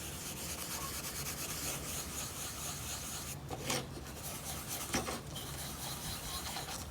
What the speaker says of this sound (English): now I've got some 4/0 sandpaper, or steel wool